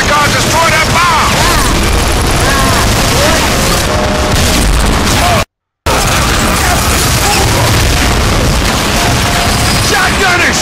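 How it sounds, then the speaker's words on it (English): Heavy explosions and booming blasts boom through a Transformers: Fall of Cybertron battle as a bomb is destroyed, loud and continuous with dense gunfire crackle layered over the rumble, briefly cutting to silence midway before the barrage resumes. "We'll let the Decepticons destroy that bomb."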